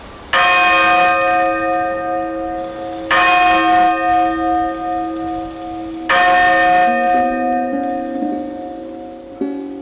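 A large old church bell in Valencia's Micalet tower, the oldest in the Crown of Aragon, strikes three times with long humming decay between strokes, loud and close, with no talk over it.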